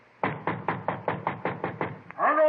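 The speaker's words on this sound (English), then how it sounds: "went up to the 4th floor and knocked at the door" Knocking on an apartment door on a 4th floor in a radio crime drama, eight firm evenly spaced raps, close and loud, followed by the start of a voice.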